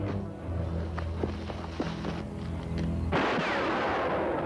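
Gunfire in a western film: a loud burst of shots rings out near the end, following scuffling movement and footsteps in an outdoor scene.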